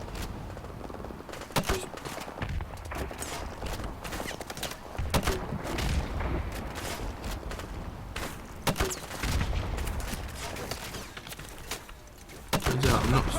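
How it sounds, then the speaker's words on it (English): Grenade launcher and gunfire in the Call of Duty 4: Remastered video game, with dense, continuous combat noise and sharp bursts and booms repeating throughout. "I'll press 5 to use a grenade launcher"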